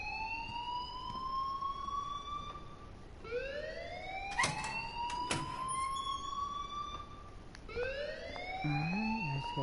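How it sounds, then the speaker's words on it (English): A repeating electronic alarm rises in pitch in long sweeping wails inside a school building in the video game Life is Strange, loud and continuous with a few sharp clicks between cycles. "please turn off that alarm since that's your job"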